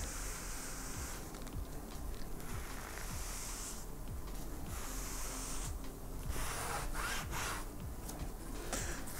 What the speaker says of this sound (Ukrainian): Зараз беремо мікрофібру і видаляємо все зайве.